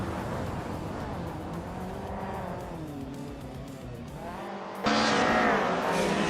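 Racing cars in a video game race, including a 1997 Vector M12 SR, with engines revving and whining as they pass close by, pitch rising and falling, and a louder roar surging in toward the end.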